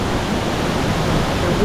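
Nyabomite waterfall, the largest in Nyanza, roaring as a dense, steady rush of falling water heard close and loud, unbroken throughout.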